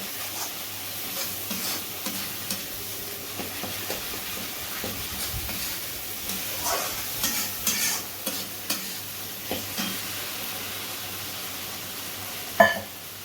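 Ground spice paste sautés in a pan for a Bengali pabda fish dish, a continuous close sizzle broken by repeated stirring scrapes and one sharp knock near the end.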